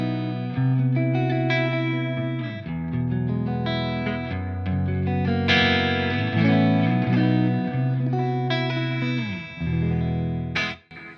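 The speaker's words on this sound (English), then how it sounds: "I'll turn on the delay, reverb, modulation, whatever you want." Clean electric guitar chords and melody through a Friedman BE100 Deluxe amp, washed in delay, reverb and shimmering modulation, played alone with sustained ringing notes.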